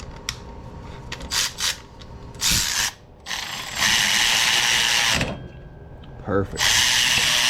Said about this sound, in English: Put our 5/8 bolt back in.